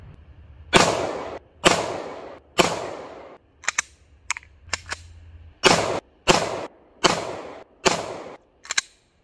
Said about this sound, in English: I really love this XDM and the way it shoots.